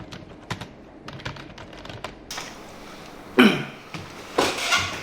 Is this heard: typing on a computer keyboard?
yes